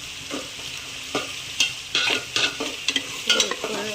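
Chopped tomato with ginger and garlic sautés in a pan for mutton biryani, giving a continuous sizzle broken by several close scraping stirs that grow busier toward the end, with no voices.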